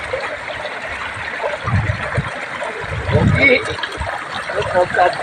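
A stream flows and trickles at an outdoor bathing spot in Santa Ines, a steady watery wash with gurgles, heard under people talking nearby.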